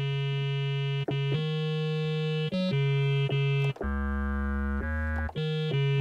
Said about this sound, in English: we're going to go for formant square